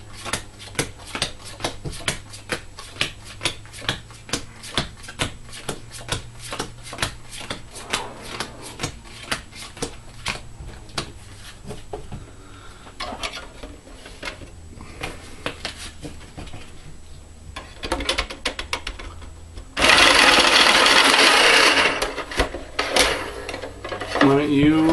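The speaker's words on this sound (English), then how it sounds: "We're going to use a little shuffler, as you can see." A small card shuffler machine riffles a deck in a tabletop game session, soft repeated clicks, then a loud whirring burst near the end, with people talking around it.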